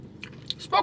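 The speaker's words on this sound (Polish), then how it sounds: "Ostrożnie gryzłam, bo nie wiedziałam, czy nie będzie gorące w środku." Short crunchy bites into a seasonal McDonald's salted caramel cookie, a few brief crisp crunches building to a louder chew near the end, close and over a quiet room hum.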